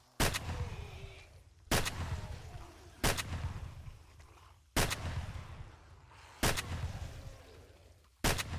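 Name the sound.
shotgun firing in 7 Days to Die video game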